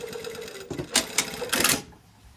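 A sewing machine stitches a garment pocket in short bursts of rapid mechanical whirring, three quick runs close by with brief pauses between them, ending in quiet.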